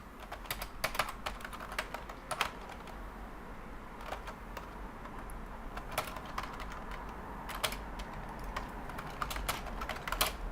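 Keys clicking on a computer keyboard in irregular bursts of typing, fairly close but soft, over a steady low background hum with no talking.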